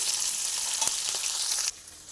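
Chopped onion dropped into oil with whole spices already fried, a close, bright sizzle with a few sharp crackles that drops away abruptly near the end.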